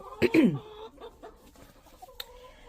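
A couple of sharp, close clucks from a chicken at the start, then softer scattered clucking and faint background noise.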